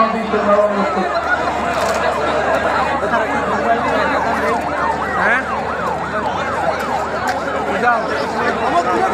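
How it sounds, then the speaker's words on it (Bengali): An ambulance siren wails steadily in a rising-and-falling pattern, loud and continuous, with crowd chatter and voices underneath. "আরে অ্যাম্বুলেন্স"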